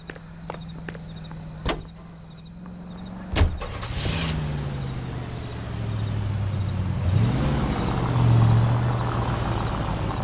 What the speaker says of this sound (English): Nice car, Roy.